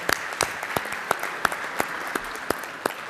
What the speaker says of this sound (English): round of applause for his service.